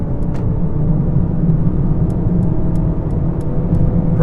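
A Mercedes-Benz A-Class sedan accelerating at full throttle, heard as a steady, loud low engine and road rumble from inside the cabin, droning evenly throughout with faint ticking above it.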